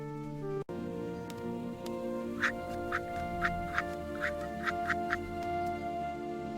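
A cartoon duck quacks in a quick series of about eight short, nasal calls over a soft musical background, moderately near and clear.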